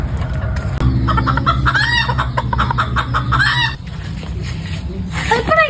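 Several roosters crow and cluck close by, one call after another, over a steady low hum and a busy outdoor background.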